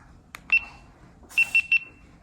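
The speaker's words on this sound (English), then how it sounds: "you'll hear that beep, beep, beep. That lets you know that it stopped recording." A GoPro action camera sounds an electronic beep once, then three short high beeps follow in quick succession as recording stops, clear and close against near silence.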